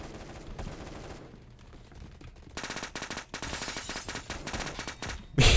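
Rapid bursts of heavy automatic gunfire from an AC-130 in a Roblox video game, loud and dense with short pauses, ending in a sudden louder blast.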